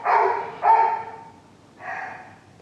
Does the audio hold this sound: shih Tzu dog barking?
yes